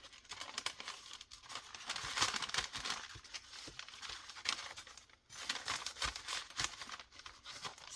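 Scrap paper crumpled by hand and tossed out, close-up crinkling and rustling in irregular bursts with brief pauses, fairly quiet and with no talk over it.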